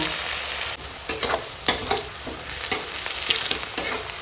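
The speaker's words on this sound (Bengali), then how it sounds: "পেঁয়াজ কাঁচা লঙ্কাটা একটু জিরে তেজপাতার সঙ্গে ভেজে নেব" Onion and green chili frying in oil with cumin seeds and bay leaf, a steady bright sizzle broken by several sharp scraping stirs of a spatula in the pan.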